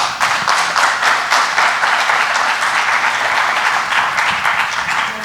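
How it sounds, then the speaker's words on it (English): Steady, loud audience applause for the panelists at a roundtable event, a dense continuous patter of many hands clapping throughout, close and unbroken. "please give the panelists a round of applause"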